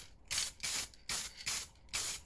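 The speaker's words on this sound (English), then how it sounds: "I use a black, glossy black spray paint and painting everything." Glossy black spray paint hisses from an aerosol can onto kid's bike parts in five short bursts, each about a third of a second, close and fairly loud, with near silence between sprays.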